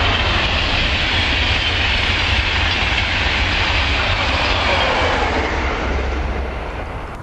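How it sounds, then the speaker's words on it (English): An East Midlands passenger train passes near Werrington Junction with a loud, steady roar and wheel clatter that holds for several seconds before beginning to fade. "There's the other East Midlands train going in the opposite direction, one every hour. On its way to Norwich."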